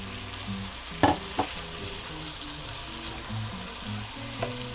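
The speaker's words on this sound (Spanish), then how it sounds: "Echamos el arroz y revolvemos bien para que se sofría con todos los ingredientes" Rice being stirred into hot oil with sautéed ingredients for Cuban congrí, giving a steady soft sizzle with a few sharp scraping knocks of the spoon against the pot, close and fairly quiet.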